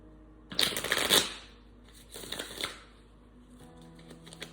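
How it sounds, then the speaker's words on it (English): Tarot cards are shuffled by hand in two clear riffling bursts, the first longer and louder, each followed by quieter handling, with a faint steady hum underneath. "All these cards have been pre-shuffled, but for the divine advice, I just want to get a couple more in here."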